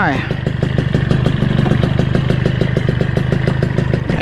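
A Suzuki Crystal motorcycle engine revving loudly nearby, a rapid rhythmic two-stroke putter with a rising whine at the start, with a voice talking over it.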